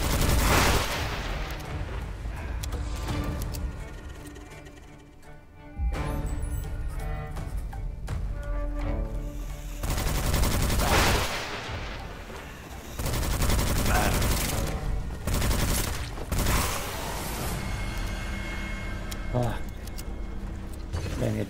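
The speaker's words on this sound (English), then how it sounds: "Use the SMG though" SMG gunfire in the video game Witchfire, loud rapid bursts of automatic fire repeating in several long volleys with brief pauses between them, mixed with game effects and a voice talking over the shooting.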